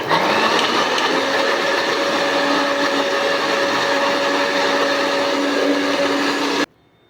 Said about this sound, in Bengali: এক চা চামচ মতো জিরে, গোটা জিরে, একটু জল দিয়ে মিক্সি করে নেব।